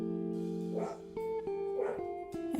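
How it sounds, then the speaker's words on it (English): A few dogs barking nearby at a rural home, a handful of sharp, separate barks rising over a steady background hum, with no voices. "Something's got my dogs upset."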